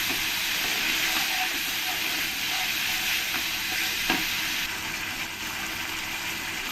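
Sugar stirred into frying spice masala for parwal rosa, a continuous close sizzle and hiss with occasional clicks of the spoon against the pan, no talking.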